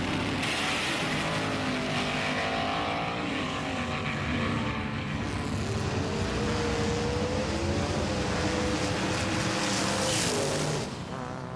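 Two race cars, Pain MD and Metal Mania 3D, in a head-to-head run with a loud, sustained engine roar and rising, shifting tones.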